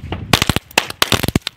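Sivakasi firecrackers from a combo pack burst in a rapid, loud crackling string of sharp pops, dense and irregular, with no talking.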